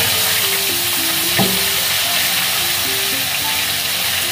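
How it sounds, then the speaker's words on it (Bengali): Cut cauliflower fries in the same oil just used for catla fish, giving a loud, steady close sizzle with a brief stirring clatter partway through and no talking. "ওই তেলেই এবার কেটে রাখা ফুলকপিগুলো দিয়ে দেবো।"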